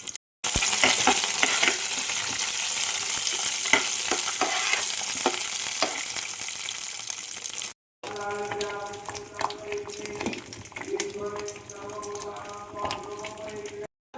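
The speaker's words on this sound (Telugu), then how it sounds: "కాజు, కిస్మిస్, బాదం ఇవి 3 కూడా రెడీగా ఉంచుకొని ఇప్పుడు నెయ్యిలో అయితే వేయించుకుందాం" Cashews, raisins and almonds fry in hot ghee with a loud, steady sizzle and crackle, stirred throughout. Brief gaps break the sound, and softer clinking and stirring follows later.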